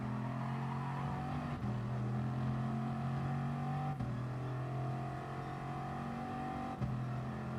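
A race car engine in Gran Turismo Sport drones steadily at high revs, with three abrupt gear shifts dropping the pitch before it climbs again, loud and continuous.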